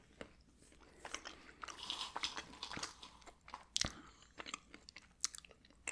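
Crunchy cashew nuts are bitten and chewed up close, a run of sharp crisp crunches and softer mastication at an uneven pace, with no talking.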